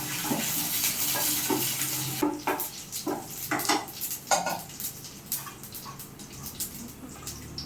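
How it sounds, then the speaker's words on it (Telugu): Cumin seeds frying in a pan while making sesame-spice rice, a steady hiss of frying under repeated sharp clinks and scrapes of a spoon stirring against the pan, close and moderately loud. "కొంచెం జీలకర్ర వేసుకొని వేయించుకోవాలి"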